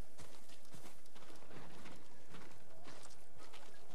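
Horse hooves clip-clop steadily through a dense, continuous game soundscape in Ghost of Tsushima, the hoofbeats close and fairly quiet under layered ambient noise, with no talk.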